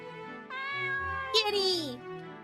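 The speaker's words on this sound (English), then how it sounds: "Kitty!" A cartoonish cat meows loudly in the video game Stand by Me, a single drawn-out, rising-then-falling call lasting about two seconds over quiet game background.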